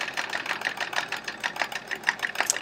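A domestic sewing machine doing free-motion quilting of elongated swirls on a chevron quilt, its needle stitching in a quick, slightly uneven rhythm of soft repeated clicks, steady and fairly close with no talk.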